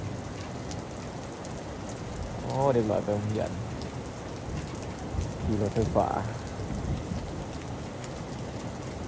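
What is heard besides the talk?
rain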